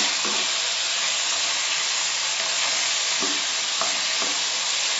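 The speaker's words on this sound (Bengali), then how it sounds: "চিকেনগুলোকে উল্টে দিচ্ছি।" Chicken pieces for a Mughlai-style chicken nihari sizzle loudly and steadily in a pan, with a few brief scraping clicks as they are turned over.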